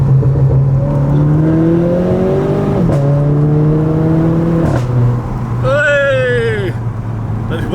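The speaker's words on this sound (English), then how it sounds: "you should be able to hear the cracks and the pops" A Renault Clio Mk4 RS hot hatch engine revs hard up and down through several rising climbs, with abrupt shifts, exhaust cracks and pops, and a loud, close exhaust roar.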